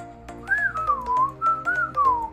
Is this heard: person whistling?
yes